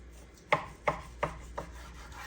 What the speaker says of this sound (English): we'll take this one and cut it in half this way.